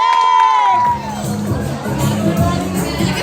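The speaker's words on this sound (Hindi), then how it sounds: "वाह वाह, तालियां तालियां तालियां तालियां तालियां तालियां।" Party guests at a child's first birthday celebration clap and cheer together, a lively close crowd noise with excited voices and children's shouts that follows a voice.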